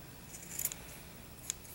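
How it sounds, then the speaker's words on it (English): Scissors snipping yarn while trimming a pom-pom, a few quiet crisp cuts close by, isolated in a hushed room. "I'm gonna keep trimming these guys over here that are unruly."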